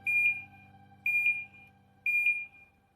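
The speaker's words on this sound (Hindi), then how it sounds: "प्रोग्राम बटन जब मैं प्रेस करता हूँ तो 3 बीप की आवाज़ आती है" Three loud, evenly spaced electronic beeps, about one per second, sound from a CRE unit as its program button is pressed, each a sharp steady tone with no talking over them.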